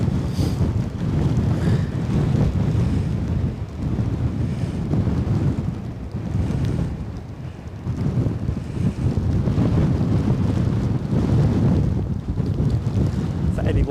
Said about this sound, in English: An incredibly windy Edinburgh, exactly as billed actually.